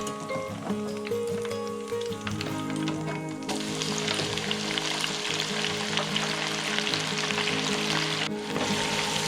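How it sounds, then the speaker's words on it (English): Aubergines and then peppers fry in hot oil in a pan for Dì sān xiān, a dense continuous sizzle that jumps louder midway as the peppers go in, alone without talk. "Fry the aubergines for around 30 seconds. And then put the peppers in and give it another 40 seconds."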